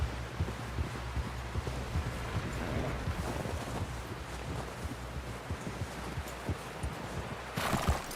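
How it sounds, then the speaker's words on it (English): Horse hooves clip-clop in a steady rhythm under wind noise, with a short whinny near the end, in the video game Red Dead Redemption 2. "Someone help John down off this horse."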